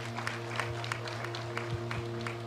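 A church congregation claps at a baptism sermon, fairly faint, steady rhythmic claps repeating over a constant low electrical hum.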